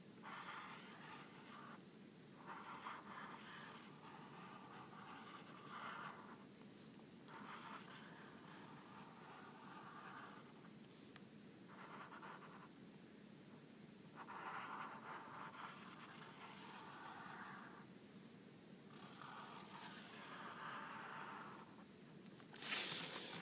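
A pen or marker drawing a diagram by hand, soft continuous scratching strokes broken by brief pauses, faint and close in a quiet room.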